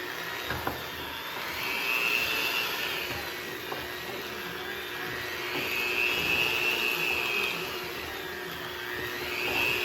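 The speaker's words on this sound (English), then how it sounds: "Basically, I'm using my hand mixer." An electric hand mixer whirs steadily in a home kitchen while chocolate and powdered sugar are beaten, a continuous close motor hum that swells slightly in intensity at times, with no speech.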